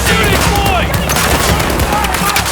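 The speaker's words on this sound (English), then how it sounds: "They're shooting" Dense gunfire in Battlefield 2042, a continuous fusillade of rapid shots and bursts filling the mix at close range, with shouted voices cutting in over the barrage.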